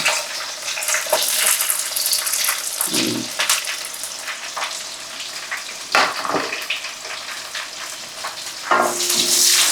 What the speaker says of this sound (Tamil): இந்த நல்லா வதக்கிக்கணும் கொஞ்சமாக உப்பு போடுங்க சீக்கிரமாக வெங்காயம் உடங்கிடும்